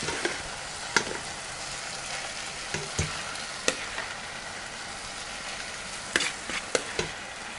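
Tahdig rice crust sizzles and crackles steadily in a pot, with scattered sharp pops and ticks over a constant frying hiss, close and fairly quiet.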